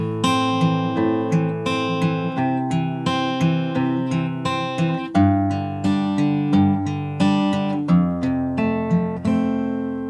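A guitar in standard tuning plays the fingerpicked intro of a song, with steady, evenly spaced plucked notes over ringing chords, close and clear, with no other sound.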